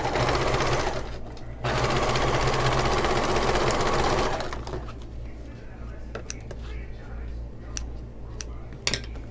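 A sewing machine runs in two steady bursts, stitching fabric strips and petal panels together with a 3/8-inch seam allowance for a Moroccan-style storage ottoman, then stops, leaving faint handling clicks.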